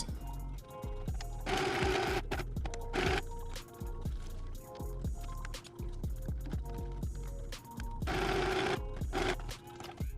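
A sewing machine stitches a buttonhole on a skirt, its needle chattering in fast rhythmic runs broken by short pauses, close and steady.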